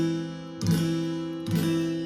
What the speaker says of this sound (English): A minor with a major 7.